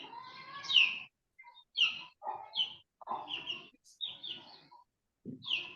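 Birds chirping close by in short, bright bursts of tweets and trills, separated by brief silences, with no other sounds around them.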